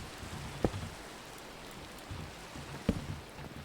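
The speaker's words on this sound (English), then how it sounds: "Of course it starts to rain whenever I record." Rain falls in a video game, a steady soft hiss with a few sharper drop or plink sounds, faint and constant with no speech.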